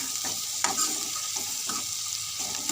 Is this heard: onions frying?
yes